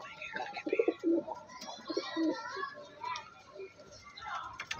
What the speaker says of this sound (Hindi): रॉयल टैडी कबूतर है